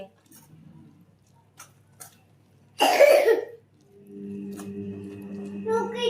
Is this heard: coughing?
yes